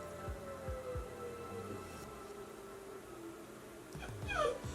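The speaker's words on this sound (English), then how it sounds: "The dog next door is howling" A neighbouring dog howls and whimpers on a frosty day, a long wavering tone with short yips, fairly faint and distant, with a louder, closer dog cry rising near the end.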